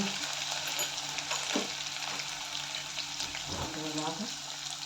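Turmeric and green chilli fry in oil in a pan, giving a steady close sizzle with occasional stirring scrapes.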